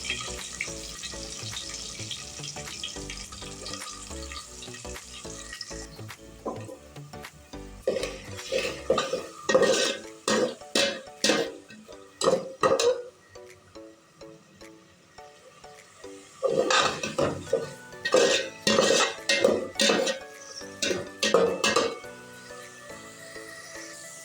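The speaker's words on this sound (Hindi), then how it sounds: "प्याज को हल्का सा पका लेंगे" Onions fry and are stirred in a pan, with repeated bursts of spatula scraping and clanking against the metal over a low sizzle and some background music.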